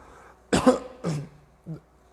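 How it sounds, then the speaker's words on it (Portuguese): A lecturer coughs in a classroom, giving three close, sharp coughs, with the last one shorter and lighter, and quiet pauses between them. "perdão aí pela tosse, não é coronavírus"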